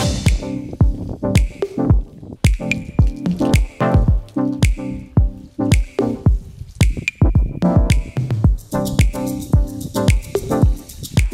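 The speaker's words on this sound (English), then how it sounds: "Once I get the shampoo all over her tail, I work it in really well." Wet squishing and dripping come from shampoo being worked into a horse's thick, wet tail, in repeated close, rhythmic squelches roughly every half second.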